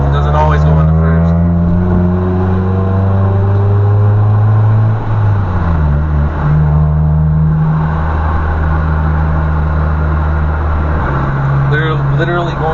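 A manual car with a broken first gear cruises through town in first without the clutch; the engine drones loudly and close, its pitch dipping and rising with throttle, while a person talks over it.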